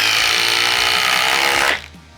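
A Makita impact driver drives a long screw into wood in one loud, continuous buzzing burst that stops abruptly near the end, close and alone.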